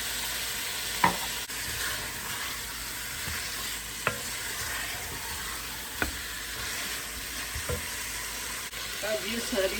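Lentils for haleem stir and fry in a pot, giving a soft continuous sizzle with a few sharp spoon knocks against the pot at intervals.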